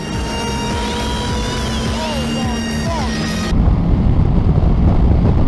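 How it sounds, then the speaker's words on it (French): Wind buffets a rider on a Honda Transalp motorcycle as a loud, steady roar with turbulent rumble, joined by engine whine that fades out as the rushing noise grows rougher. "je me prends directement le vent dans la gueule en fait"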